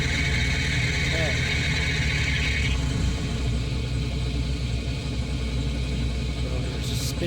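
A helicopter's rotor turns steadily with its engine running in Microsoft Flight Simulator, making a loud continuous low rumble and hum through the whole stretch, with a high whine in the first part and some talk over it.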